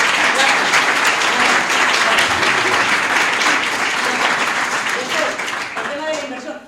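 Audience at a financial conference bursts into loud, dense applause that holds steady for several seconds before tapering slightly at the end.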